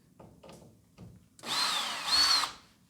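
A power drill unscrewing screws while a new lock is fitted: a few faint taps and handling knocks, then two short, close whirring bursts of the drill motor.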